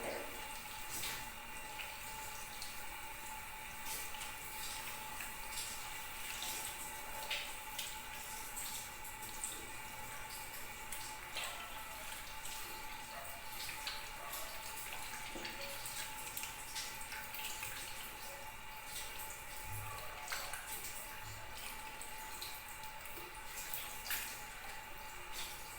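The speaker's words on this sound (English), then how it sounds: "And then rinse your hands thoroughly in the running water." Tap water running at a sink while hands are rinsed during a medical handwashing technique, a faint, steady stream with light splashing that continues throughout.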